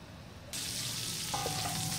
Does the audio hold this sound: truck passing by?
no